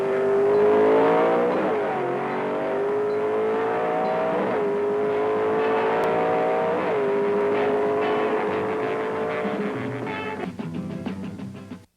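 Engine roar from 1964 Ford Thunderbolt 427 drag racing cars, loud and sustained, rising in pitch through several revving gear pulls before dropping away at the end.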